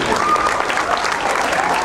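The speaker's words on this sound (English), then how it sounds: "let's stand and applaud them for all that they have done" Steady, full applause from a standing audience honoring veterans at a memorial gathering, continuous and fairly loud throughout.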